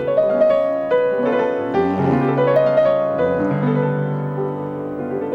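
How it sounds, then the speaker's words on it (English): Sustained orchestral chords drift and shift in ambiguous, floating harmony built on the whole-tone scale, smooth and fairly loud with no talking. "It's the sound of the whole tone scale"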